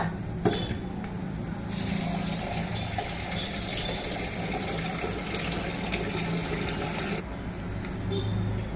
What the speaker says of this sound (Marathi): 2 पाण्याने तांदूळ धुवून घेतलेत बघा.